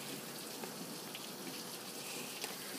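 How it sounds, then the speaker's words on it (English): Hail and rain fall together during a thunderstorm, a soft, dense patter with occasional sharper ticks, fairly distant and steady, with no voices. "I know, it's hail. It's hail, guys, it's hail."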